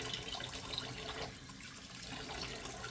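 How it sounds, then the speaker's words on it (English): Tap water runs steadily into a bathroom sink to rinse off shaving lather, a faint continuous splashing hiss heard alone. "Sorry about the running water."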